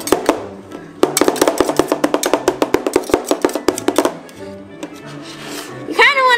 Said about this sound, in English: All righty, we're almost done chopping it up.